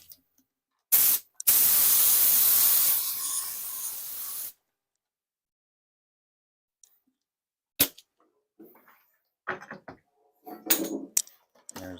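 Aerosol clear coat hisses loudly in a close, sustained burst of about three and a half seconds over silver paint on a Boba Fett helmet built on an HJC shell, preceded by a short spray and followed by scattered handling clicks.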